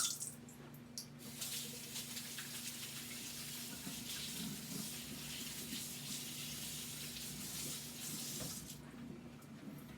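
A kitchen tap runs steadily to wet hands while hash brown patties are shaped, a continuous close splashing hiss with a faint low hum under it.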